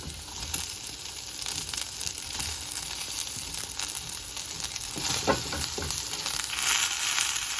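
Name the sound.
frying sizzle in a pan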